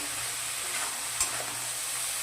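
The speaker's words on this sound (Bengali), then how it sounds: "তেলটা পুরোপুরি ভাজা হয়ে গেছে, দিয়ে দিচ্ছি সবজিগুলো" Eggplant, onion and tomato hitting hot oil for a katla fish paturi, giving a steady, soft, close sizzle that hisses evenly throughout with one brief clatter partway through.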